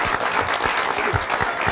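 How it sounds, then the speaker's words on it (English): An audience at a Project Search graduation ceremony claps in a brief burst of applause, a short stretch of close, dense hand claps. "Give these guys another round of applause."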